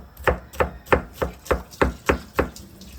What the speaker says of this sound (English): Just cut up the onions nicely